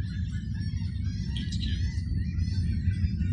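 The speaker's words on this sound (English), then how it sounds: "You hear the birds going crazy? We got seagulls everywhere." Seagulls call and chatter continuously over a heavy, constant low rumble from a SpaceX rocket launch.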